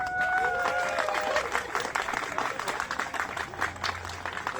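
Crowd applause at a wedding fills the space, steady clapping from many hands with a few high whistle-like tones early on and a low hum near the end.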